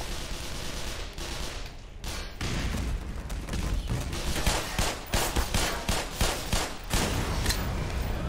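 Assault rifle fire in the video game Black Mesa, opening with scattered shots and then building into loud, rapid bursts of repeated cracks that grow denser toward the end.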